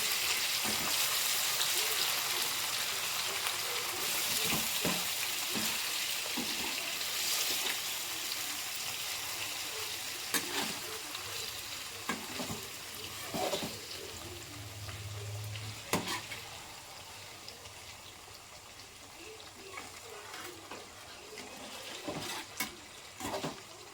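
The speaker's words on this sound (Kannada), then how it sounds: "ತಳ ಹಿಡಿದಿರೋ ರೀತಿ ನಿಧಾನಕ್ಕೆ ಹಾಗೆ ಸ್ವಲ್ಪ ಜರುಗಿಸಿ ಸ್ವಲ್ಪ ಫ್ರೈ ಮಾಡ್ಕೊಳ್ಳಿ" Silver fish shallow-frying in a pan, Nellore-style curry preparation, with a steady crackling sizzle throughout and scattered sharp pops and stirring clicks, moderately loud and close.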